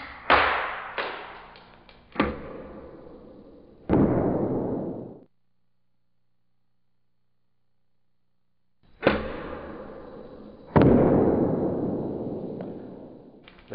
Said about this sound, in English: They both hit the table at the same time.